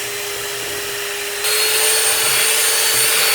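A kitchen blender whips a chocolate ice cream mixture with a loud, steady motor roar that jumps higher and harsher partway through as the speed rises, close and continuous with no talk.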